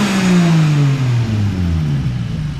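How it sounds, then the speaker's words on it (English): A Lexus GS300 with a turbocharged 2JZ-GE engine revs loud and close, its pitch climbing and then sliding down smoothly as the revs fall back over a few seconds. "Let me rev it for you guys."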